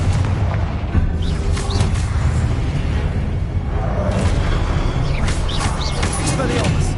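A Confringo spell in the wizarding game Hogwarts Legacy sets off booming blasts within a dense stream of combat effects, while a voice talks over the noise.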